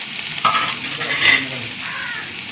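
Mustard seeds, onion and dried red chili sizzle in hot oil in a pan, a steady close frying hiss with a couple of brighter bursts as ingredients go in and are stirred.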